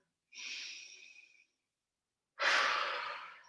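Two deep breaths during a mobility exercise routine: an airy inhale, a short pause, then a louder, rushing breath, close and clear with no talking.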